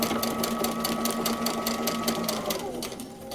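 Domestic sewing machine stitching a paper pieced quilt block along a marked line, a fast steady mechanical chatter close up that slows and fades toward the end.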